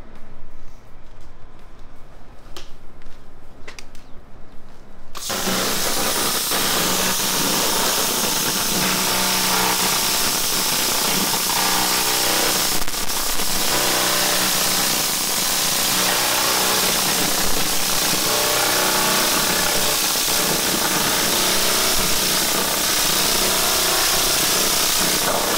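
A laser cleaner strips rust from a car hood, starting after a few quiet seconds as a loud, steady broadband hiss and hum that continues unbroken to the end, with no speech.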